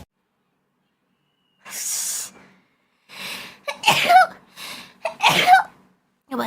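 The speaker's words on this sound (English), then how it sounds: "Oh, I really have to sneeze." A woman sneezes close up, with a sharp inhaled buildup followed by two quick sneezes in succession, breathy and loud against near silence.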